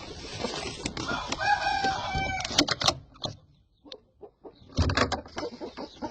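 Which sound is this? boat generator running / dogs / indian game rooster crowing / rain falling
indian game rooster crowing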